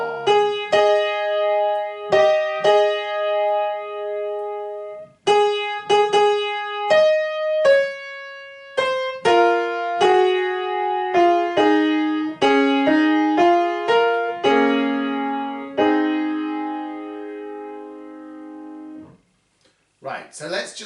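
Both voice lines of the Kyrie from Fauré's Messe Basse, played on a keyboard-like instrument, as clear sustained notes in short phrases, then overlapping lines rising and fading, with no talking.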